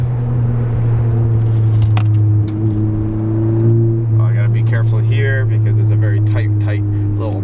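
A 2018 Honda Civic Si with a muffler delete drives along, its low, loud exhaust drone steady from inside the cabin as it downshifts to third gear for a sharp turn, with a voice talking over it in the later seconds.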